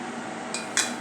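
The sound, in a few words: handling a mixer jar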